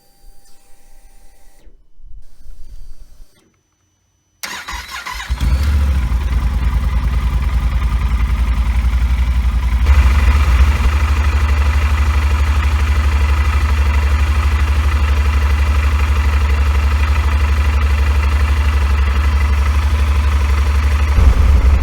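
A Yamaha Super Tenere motorcycle engine cranks briefly, cuts out for a moment, then fires and settles into a steady, loud, close idle that rises slightly after a few seconds and runs on alone with no talk.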